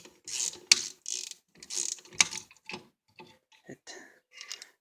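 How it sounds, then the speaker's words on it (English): A Harbor Freight Pitman arm puller works a bearing off a mower, giving bursts of ratcheting and clicking metal mechanism sounds in short uneven runs, close and fairly quiet. "that's just a Harbor Freight Pitman arm puller"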